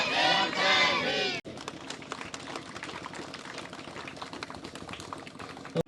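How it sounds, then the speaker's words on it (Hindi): A crowd at a Bhim Army political rally in Bihar chants loudly for a moment, then breaks into dense, steady applause that carries on through the rest of the clip. "जोरदार ताली होनी चाहिए"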